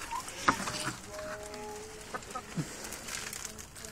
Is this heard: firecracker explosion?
no